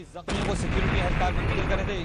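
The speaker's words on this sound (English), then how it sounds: "Within minutes, there was a third explosion." A bomb blast outside the American consulate in Pakistan lands as a sudden loud boom after a quiet moment, followed by a sustained rumbling roar, with a voice partly audible over it.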